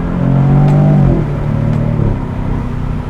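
A 2021 Jaguar F-Type with about 300 horsepower accelerates hard, its engine revving loudly and steadily up close, the pitch climbing, then dropping and settling after a shift.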